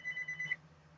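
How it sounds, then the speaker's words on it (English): Faint electronic telephone ring heard indoors, a quick repeating trill pulsing several times then stopping, distant and soft against a low background hum. "that phone has been ringing all day"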